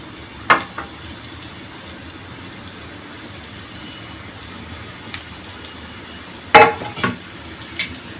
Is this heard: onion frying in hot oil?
yes